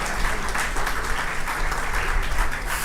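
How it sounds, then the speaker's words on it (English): Audience applause at a university research conference in Ghana, a steady wash of many hands clapping at close range, evenly sustained without voices. "I thought I would get another applause."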